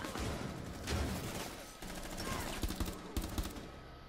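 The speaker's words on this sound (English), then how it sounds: "there's gunshots going off to our right here." Bursts of rapid gunfire in the video game Rainbow Six Siege crackle in quick succession, some shots sharper and closer, over a noisy, busy background.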